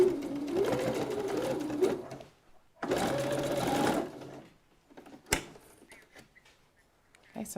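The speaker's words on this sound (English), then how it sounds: "So I've sewn that bit on." A sewing machine stitches fabric pieces in two short bursts of steady whirring, each lasting about a second or so, with quieter pauses and a sharp knock between them.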